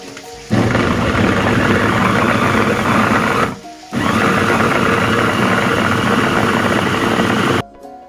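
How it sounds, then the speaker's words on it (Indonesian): Electric food chopper grinding chilies with a little water, a loud, close, continuous motor whir in two long bursts separated by a short pause. "Lanjut, chopper cabenya hingga halus."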